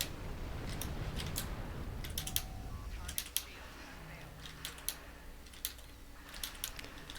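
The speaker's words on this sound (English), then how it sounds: "you can hear the clickety clickety all the time as I hit my very mechanical keyboard to death" A very mechanical keyboard being typed on, giving scattered sharp clicks at an uneven pace over a low, steady background rumble.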